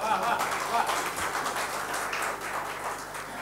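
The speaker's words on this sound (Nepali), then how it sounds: "यो अनुभवीले मात्रै ताली पड्छ" An audience applauding after a poem recitation, a dense, even patter of many hands clapping that holds steady for a few seconds, moderately loud and fairly close.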